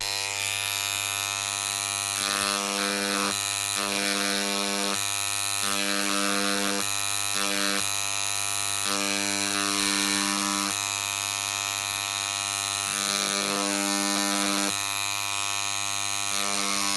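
A small electric engraving tool cuts a name into a stone, giving a steady high buzzing whine that breaks off and restarts in short bursts between letters, close and loud with no talking.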